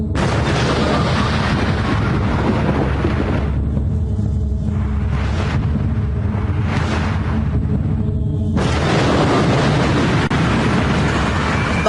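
The Fat Man atomic bomb explosion over Nagasaki: a deep, rumbling blast roars continuously, swelling and dipping with crackling debris-like noise, loud and close throughout with no voices.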